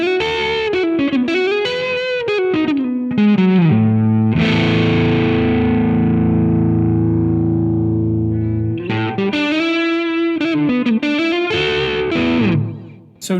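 Electric guitar played through an AmpliTube 5 amp simulation with distortion and a delay turned up, sustained chords and riffs ringing out with echoing repeats, loud and continuous with no talking.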